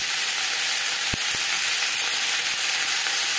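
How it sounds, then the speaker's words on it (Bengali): Capsicum and onions fry together in a pan, giving a steady loud sizzle throughout, with a couple of brief knocks from stirring near the start. "2 মিনিট পেঁয়াজ ভেজে নেওয়ার পর দিয়ে দেবো ক্যাপসিকাম। পেঁয়াজের সাথে ক্যাপসিকাম বেশ ভালো করে মিক্স করে দেব।"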